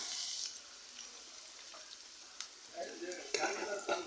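Onions frying in oil for beef biryani, a soft steady sizzle at low level with a few faint clinks and stirring scrapes toward the end.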